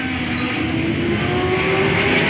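Late model race cars circle Louisville Motor Speedway under caution in 1995, a steady blended engine drone holding a constant tone throughout, with no voices audible.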